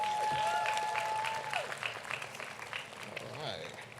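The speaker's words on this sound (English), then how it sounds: "a round of applause one more time." A crowd at a college commencement ceremony claps in a steady round of applause that gradually thins out, heard at a moderate distance with some background chatter.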